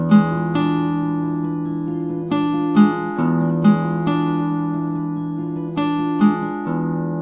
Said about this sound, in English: play the thumb as loudly as possible and the three fingers as quietly as possible